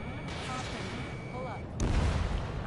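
A missile launches from a hostile craft in the Ace Combat 7 jet combat game, a sudden loud whoosh and rumble cutting in under engine drone and radio chatter.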